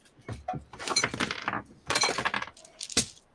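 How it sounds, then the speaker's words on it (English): Dice spill onto a desk in a rush of hard, bright clatters: an initial scatter, a dense rolling burst, then a second spill and a final sharp clack, all close and fairly loud with no talking. "Now there's dice all over the desk."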